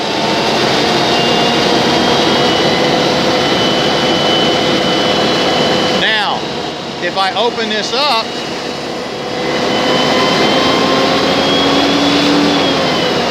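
Modern fire engine with its pump running, a loud continuous roar that dips briefly while someone speaks mid-clip, then returns at full strength as the engine speeds up.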